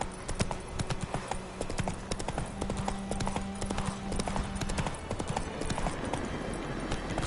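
Roach, a horse in The Witcher 3, runs with fast, continuous hoofbeats drumming close and loud over a low background hum.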